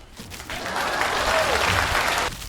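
A video game applause sound effect: many hands clapping at once, swelling for a couple of seconds and then cutting off abruptly.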